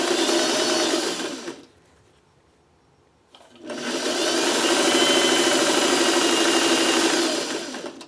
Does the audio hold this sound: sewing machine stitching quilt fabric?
yes